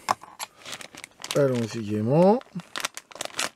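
Sealed plastic sachet being torn open, crisp crinkling and tearing bursts scattered between stretches of someone talking, close and fairly loud.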